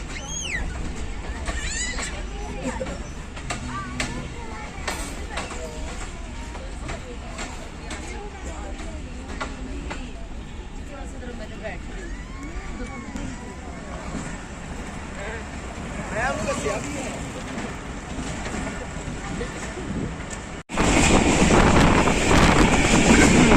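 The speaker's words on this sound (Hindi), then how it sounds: "ये गुजर रही है जी जाफ़र एक्सप्रेस।" The Jaffar Express, running from Quetta to Peshawar, passes near Kharian with a steady, wind-buffeted rumble that grows into a louder roar at the very end, with voices faintly over it.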